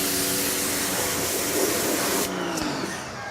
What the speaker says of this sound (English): the AR pressure washer makes short work of the dirt and grime